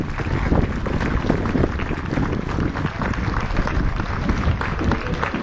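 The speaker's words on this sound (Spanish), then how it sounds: "Despedimos al ejército militar fuerte con nuestros aplausos" Dense crowd applause for army troops departing a November 20 parade in Arriaga, Chiapas, a continuous outdoor wash of clapping with street noise, steady and fairly loud throughout.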